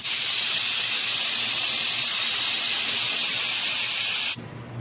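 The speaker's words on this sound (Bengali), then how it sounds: "আমাদের 20 মিনিট প্রেশার কুক শেষ হয়ে গেছে। এখন আমরা এটাকে খুলবো।" Steam from a pressure cooker of Arabic madghout with meat and rice hisses loudly and steadily as the lid is released, a continuous broadband rush that cuts off abruptly near the end, leaving a quiet room.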